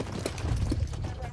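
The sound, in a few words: horses running in the corral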